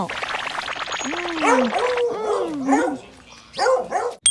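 A dog barks repeatedly in close, loud yips and bow-wows while someone talks over and between the barks.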